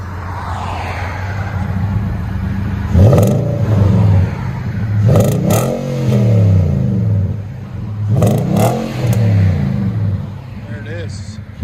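A 2019 Nissan Titan Midnight Edition with a 14-inch Magnaflow exhaust idles with a deep rumble and revs up three or four times in short bursts, close and loud.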